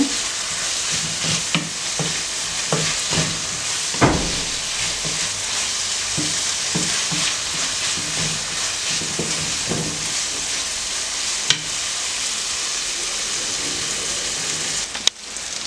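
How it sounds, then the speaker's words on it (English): Food for a Greek dish sautés and cooks down in a pan, a steady, dense sizzle and crackle throughout with occasional stirring scrapes and clinks, close and continuous without any talking. "So I will still allow it to saute and cooked down."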